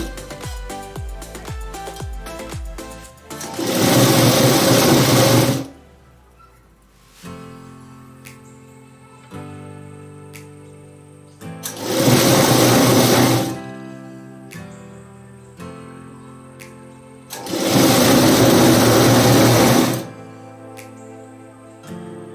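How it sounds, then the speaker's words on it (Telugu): A sewing machine stitches blouse fabric in three loud bursts of a few seconds each, separated by quieter stretches with a steady background tone. "సేమ్ దీన్ని కూడా ఫోల్డ్ చేసుకొని స్టిచ్ చేసుకోవాలి."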